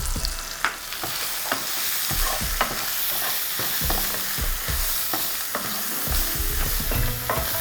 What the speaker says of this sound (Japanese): さあスパイスを入れて軽く炒め